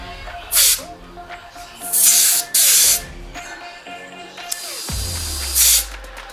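A motorcycle tire's Schrader valve hisses as air is let off and the pressure checked, four or five short sharp bursts close by, with a faint tone and light handling noise between them.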